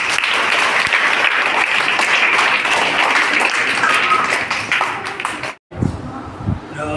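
Zilla Parishad schoolchildren give loud, sustained applause to welcome guests at a school event, a dense roar of clapping that stops abruptly before people begin talking.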